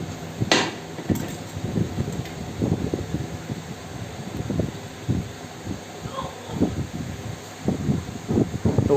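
Hard, irregular metal taps ring out close by as a bearing is hammered into place on a ceiling fan during a noise repair, the sharp knocks repeating unevenly over a faint background hiss.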